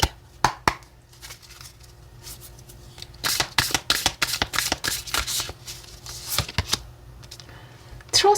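Oracle cards for a tarot reading being shuffled, quick crisp riffles and flicks coming in close bursts, a dense flurry in the middle, with no talk.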